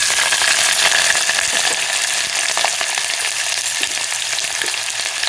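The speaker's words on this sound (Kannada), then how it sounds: "ಈಗ ಒಂದು ಕುಕ್ಕರಲ್ಲಿ ಸ್ವಲ್ಪ ಎಣ್ಣೆ ಜಾಸ್ತಿ ಹಾಕ್ಕೊಂಡು ಸ್ವಲ್ಪ ಸಾಸಿವೆ ಒಂದು ಬಟ್ಲು ತುಂಬ ಬೆಳ್ಳುಳ್ಳಿ ತೊಗೊಂಡಿದ್ದೀನಿ" Mustard seeds and plenty of garlic fry in oil inside a pressure cooker, giving a loud, dense, continuous sizzle with small crackles and pops throughout.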